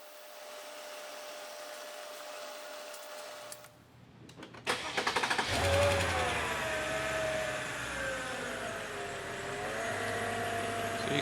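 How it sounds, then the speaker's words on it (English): A Mercedes C55 AMG engine cranks and fires up after a quiet lull, catching with a loud burst and settling into a steady, smooth rumble close by. "we'll go ahead and fire it up and let you have a listen"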